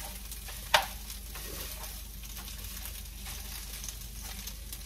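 Food heats and sizzles in a pan on a home stovetop, a soft steady frying crackle close by, with a sharp clatter of a utensil near the start.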